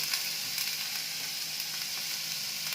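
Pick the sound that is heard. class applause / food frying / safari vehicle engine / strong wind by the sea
food frying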